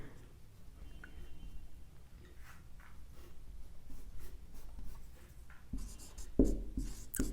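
A pen scratches across paper in short, intermittent strokes with brief pauses. The scratching is quiet and close, with a louder rustle of the page near the end.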